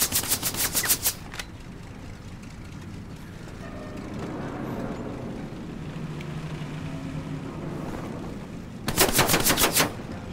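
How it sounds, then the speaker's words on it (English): Bursts of automatic gunfire in the World War II shooter game Hell Let Loose, a loud rapid volley at the start and another near the end, with a dull rumbling battlefield ambience between them. "Taking fire from somewhere, no idea where from."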